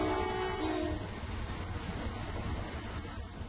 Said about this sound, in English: Royal Scot eases out of Preston Station under the road bridge and towards File